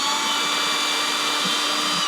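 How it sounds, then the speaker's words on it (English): A steady high-pitched whirring drone of a power drill drilling an angled pilot hole, running continuously for a couple of seconds, close by. "I can drill a pilot hole"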